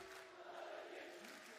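A crowd at an esports watch party for Team Liquid vs Fnatic at VCT Champions Istanbul 2022 swells into a faint, distant murmur of reaction as the match draws close, soft and continuous throughout.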